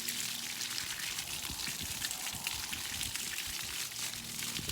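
Water gushes steadily from newly repaired home plumbing, a continuous, fairly close hissing rush that stays even throughout with no voices.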